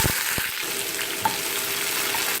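Small shallots fry in sesame oil with cinnamon, fennel and dried red chillies, giving a loud continuous sizzling hiss with a couple of quick utensil knocks near the start and no talking.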